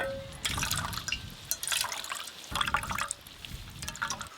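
Grated coconut soaked in warm water is strained by hand, liquid dripping and splashing in soft intermittent bursts, close and fairly quiet, with no talk.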